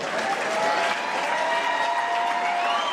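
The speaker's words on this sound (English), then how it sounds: "big round of applause for both of these fighters" Sustained crowd applause after a three-round combat sports bout, steady dense clapping throughout, with some cheering mixed in at a fairly loud level.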